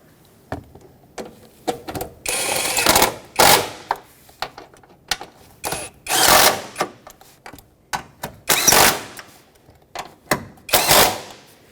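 Short bursts of ratcheting as bolts on a speed sensor of a 2006-2010 Hyundai Sonata 2.4L L4 are snugged down, each burst a quick rapid clicking separated by pauses, close and fairly loud.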